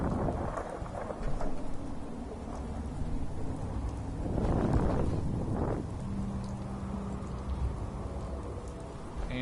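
Steady rain hisses in the open wasteland of the video game Fallout 4 while a low rumble of thunder swells midway and rolls off, wind in the background.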